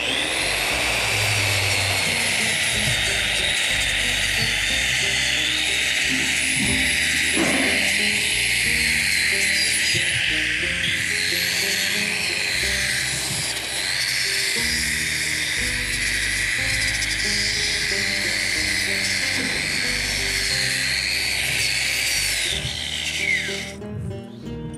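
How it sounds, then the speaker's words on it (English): A wire wheel buffs a weld on an 8-inch pull head, giving a steady, loud high whine with a harsh grinding hiss that runs almost without a break, then cuts off at the end. "So I'll wire wheel this."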